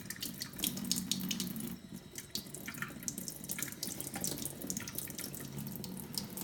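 Water runs steadily out of a Berkey gravity water filter, a continuous close splashing stream with small fluctuations that carries on alone for the whole stretch.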